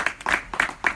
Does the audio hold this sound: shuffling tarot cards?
no